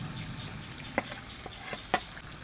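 Fried chicken pieces for chicken chaap stirred together in a hot pan, a soft steady sizzle broken by a few sharp spatula scrapes and knocks.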